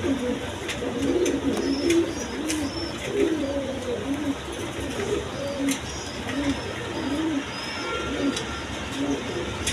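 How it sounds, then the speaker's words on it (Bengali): A pair of cream-bar racer pigeons coo in repeated soft, throaty phrases at close range over steady background noise, with occasional higher chirps from other birds. "এইখানে আরেক পেয়ার রেসার কবুতর আছে দেখেন, এটা ক্রিমবার কালার।"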